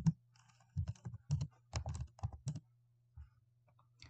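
Keys tap on a computer keyboard in short irregular bursts, close and fairly quiet, with a brief pause near the end before a few more strokes over a low steady hum.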